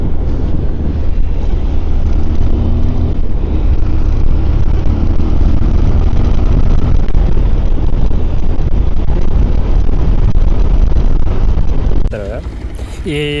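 A motorbike rides at night on an open road, heard as a loud, steady engine and wind roar that runs almost unbroken, then cuts to a quieter, different sound near the end.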